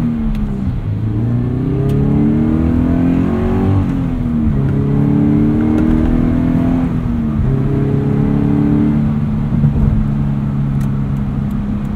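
A 2014 Subaru BRZ engine heard from inside the cabin while driving, revving up and down through gear changes with a loud, steady drone and shifting pitch throughout.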